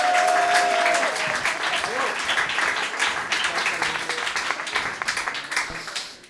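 An audience claps during the interval of a live acoustic concert at a farm, with dense, steady applause that begins right after a spoken thanks and fades toward the end.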